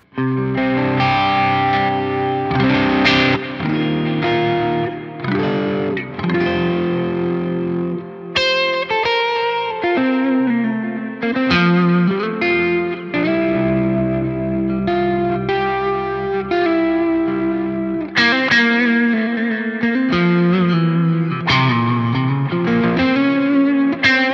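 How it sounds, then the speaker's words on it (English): Distorted electric guitar through a Synergy SLO II amp module with compression, playing a chordal riff with sustained notes, thick and evenly compressed, with a chorus-like shimmer and no talking. "let's throw on some compression now"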